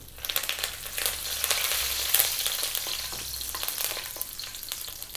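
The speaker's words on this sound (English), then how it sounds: "We're now going to drop in the fresh curry leaves. Sometimes it's going to be very noisy." Loud, crackling sizzle of fresh curry leaves dropped into hot oil, a dense spitting hiss that stays steady throughout with sharp pops.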